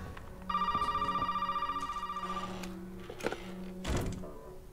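A telephone rings inside the Resident Evil 7 horror game, a steady pulsing electronic ring lasting about two seconds, followed by a few dull thuds and knocks against a quiet, hollow background.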